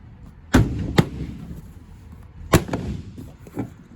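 Several heavy thuds from a closed old tool box holding a pistol packed in foam being dropped, with two sharp impacts, then a louder one and a smaller knock, close and without talking.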